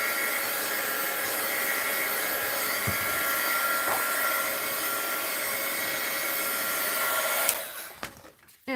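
Hair dryer blowing on an art journal page, a loud, steady close-up whoosh and whine that holds for about seven seconds and then cuts off, with a few faint handling knocks afterward.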